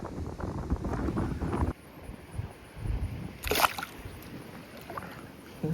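Wind buffets the microphone outdoors at a spillway, loud rumbling gusts up close with a rough, blustery texture that rises and falls.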